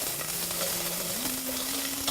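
Onions sautéing in a pot for dhal soup give off a steady soft sizzle, with faint stirring and a low hum underneath, close by and fairly quiet.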